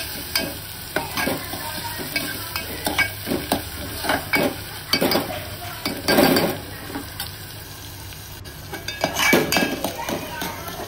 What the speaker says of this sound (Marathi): कांदा आपण व्यवस्थित शिजवून देऊ मंद आचेवर।